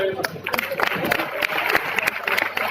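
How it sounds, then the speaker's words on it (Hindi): Clapping from a gathered audience at a shop team event in Aligarh, a short burst of mixed, uneven claps with scattered sharp hand strikes over room noise. "जोरदार तालियां"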